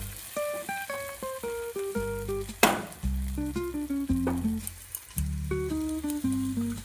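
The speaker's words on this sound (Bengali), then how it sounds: "একটু নাড়াচাড়া করে নিচ্ছি। দেখুন মশলার সঙ্গে চিকেন পুরো মাখো মাখো হয়ে গেছে।" Spiced chicken sizzles steadily in a pan while being stirred, a soft frying hiss running beneath prominent background music throughout.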